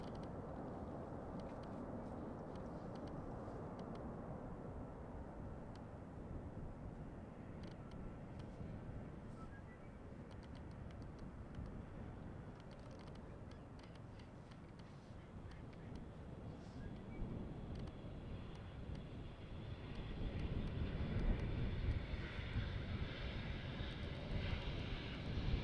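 An airliner's jet engines roar steadily during takeoff from a Schiphol Airport runway, a broad rumbling drone heard from a distance that swells louder toward the end.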